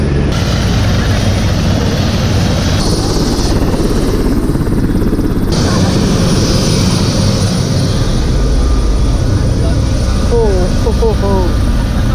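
Loud, steady helicopter rotor and engine roar fills the whole clip, close by, over Gangtok, with a few faint chirps near the end.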